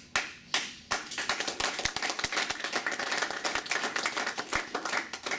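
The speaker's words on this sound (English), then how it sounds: "Yes, you are applauding" Audience applause at the opening ceremony of a law library, many people clapping together, close and lively, with distinct individual hand claps standing out throughout the several seconds.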